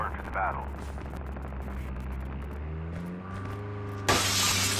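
Gunfire in the Call of Duty Mobile Blackout battle royale map, dense cracking shots over a steady engine-like drone, with a sharp loud burst near the end.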